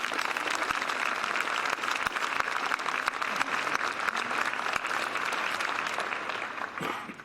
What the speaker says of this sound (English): Please give a round of applause for our Marine Corps.